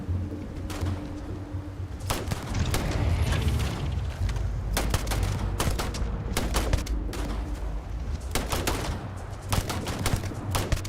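Sustained gunfire in the space game Starfield, dense bursts of automatic fire and repeated shots rattling almost continuously over a low rumbling bed, loud and close throughout.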